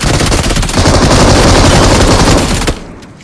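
Loud, dense automatic gunfire from a battle royale video game, rapid bursts rattling almost continuously for nearly three seconds before cutting off abruptly into quiet.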